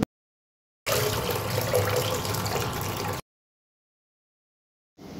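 Water poured into a clay mud pot, a steady splashing pour for about two seconds that starts and stops cleanly, with no talking.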